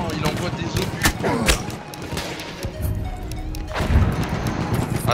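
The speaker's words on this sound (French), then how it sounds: "le gars il est chiant, il envoie des obus quoi" Artillery shells explode in Battlefield 1 gameplay, heavy booms and crashes landing among gunfire in a busy battle mix, with a sharp blast near the start and another around four seconds.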